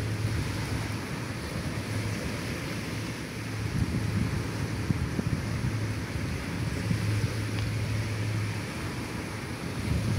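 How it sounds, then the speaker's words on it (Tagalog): Strong wind buffets the microphone in a continuous low roar, with gusts rising and falling and a faint engine-like hum underneath. "Malakas ang hangin eh."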